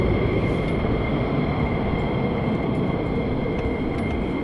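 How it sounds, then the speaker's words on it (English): F-15 fighter jets taxi at RAF Lakenheath, a loud, steady engine roar with no break throughout, heard from a fair distance. "Now we've got a couple more F-15s taxiing down"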